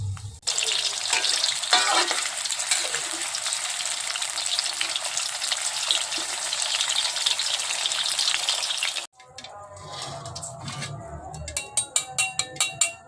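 Green eggplant fries in a pan over low heat with a steady, dense sizzle. Partway through, the sizzle shifts to quieter frying with sharp, irregular crackles and pops near the end.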